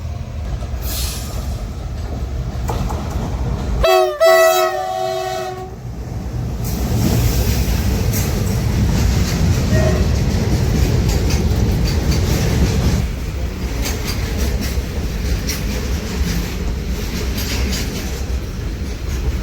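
The Rani Kamlapati train runs with a loud, steady rumble and wheel clatter, broken early on by a brief tonal horn-like squeal, then continuing close and heavy.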